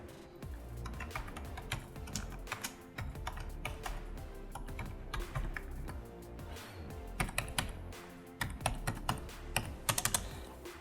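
Fingers typing on a computer keyboard to fill out a form, steady close key clatter in bursts with short pauses and a few harder key strikes near the end, no speech.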